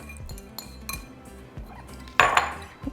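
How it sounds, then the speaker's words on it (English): Cheese and cooled cooked beans are mixed in a bowl, heard as a few sharp clinks and scrapes of a utensil against the dish, close, with one louder knock near the end and no talking. "we're going to mix the cheese with our beans"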